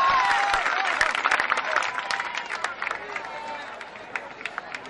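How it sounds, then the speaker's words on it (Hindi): Crowd at a political rally in Himachal claps loudly, a dense burst of applause that gradually thins and fades, with cheering voices mixed in. "जोरदार तालियों"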